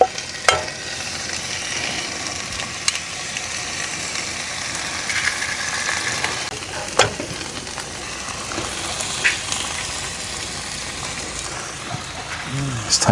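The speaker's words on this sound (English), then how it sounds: "I'll pile the bacon one side, we'll chuck the eggs in" Bacon and eggs fry on a camp cooker at an outdoor campsite, giving a steady, close sizzle and crackle with occasional spatula clinks and scrapes throughout.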